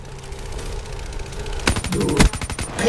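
Rapid bursts of light machine gun fire in a first-person shooter video game, a quiet stretch giving way to a loud, fast rattling volley of close shots in the second half.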